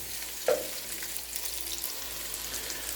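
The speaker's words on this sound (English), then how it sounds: "we'll go ahead and just keep stirring them until they kind of break down or get a little bit of caramelization on them" Onion, garlic and red peppers frying in a pan while being stirred, a soft continuous sizzle with a brief sharp clink near the start, fairly quiet and without talk.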